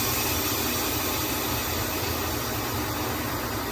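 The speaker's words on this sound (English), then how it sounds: "release the steam" An Instant Pot vents steam at low pressure in one loud, continuous, even hiss that runs unbroken from start to finish with no voices.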